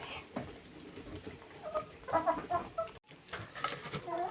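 Hens clucking as they peck at a zucchini, soft close-up chicken calls and short cluck bursts over a low, busy background, with a brief pause near the middle before clucking resumes.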